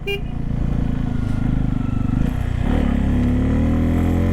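A motorcycle climbs a mountain road in second gear, its engine held near 4500 RPM. The close, loud drone rises in pitch as it works uphill, with no talk.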